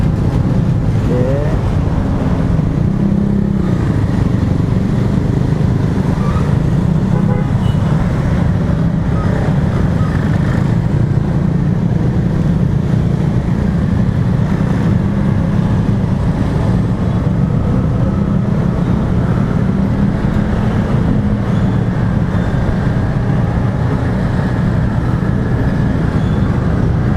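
Road traffic squeezing from two lanes into one, with cars and motorcycles jostling through the bottleneck, heard as a steady, loud low rumble of engines and tires from inside a moving vehicle.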